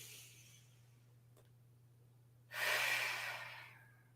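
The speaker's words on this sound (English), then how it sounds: "And just take some breaths here." Slow, deep breathing during a Pilates session: a quiet, drawn-out breath is followed by a long, audible exhale, heard close up against a steady low hum.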